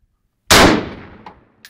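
An M1 Garand rifle round strikes a steel target, giving a single loud, bright metallic clang that rings and decays over about a second, followed by a couple of faint small knocks.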